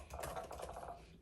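A MacBook Air M1 keyboard is typed on in a quick, faint, continuous patter of soft key clicks, close and with no voice.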